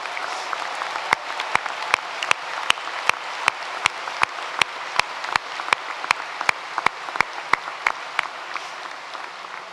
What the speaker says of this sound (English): Let's pause and give these remarkable graduates the applause they deserve.